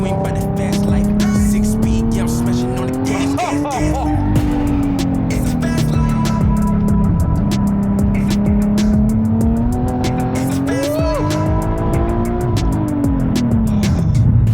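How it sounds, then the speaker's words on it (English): A Nissan 370Z Nismo on wheel spacers gives repeated sharp engine blips as the driver heel-and-toes through downshifts, loud revs rising and falling over steady road and engine drone inside the cabin, with occasional voices. "that is not the auto blipping of S mode, that is me. Bit of heel and toe."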